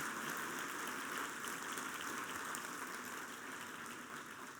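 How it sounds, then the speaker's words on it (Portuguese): A church congregation applauds the Lord, a dense, even rush of many hands clapping that sounds like steady rain, faint and distant, lasting without a break. "Vamos aplaudir ao Senhor e a sua palavra"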